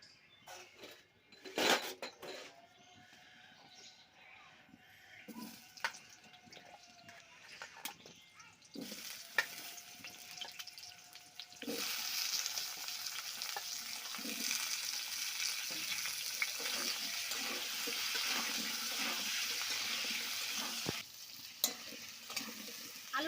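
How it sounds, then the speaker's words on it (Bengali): Potatoes frying in oil in a wok, with quiet scrapes and clinks of stirring at first, then a louder, steady sizzle that swells midway and holds until near the end, briefly dropping off at the close. "তেলটা দিয়ে আমি আলুটা ভালো করে ভেজে নেব"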